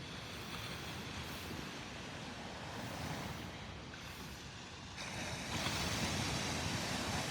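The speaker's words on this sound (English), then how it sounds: "This is the beach at Delnor-Wiggins Pass State Park in North Naples, Florida." Ocean waves break and wash onto the beach at Delnor-Wiggins Pass State Park in North Naples, Florida, on an overcast morning. The surf is a soft, continuous hiss that swells gently, with some wind rumble and no talking.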